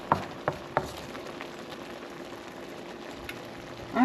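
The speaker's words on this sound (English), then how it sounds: "pasta is cooking up here" A pot of water boils with pasta cooking in it for a creamy shrimp pasta dish. It gives a steady soft bubbling hiss, with a few sharp taps or clinks near the start and a louder rush at the end.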